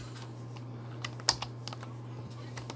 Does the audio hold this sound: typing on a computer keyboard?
yes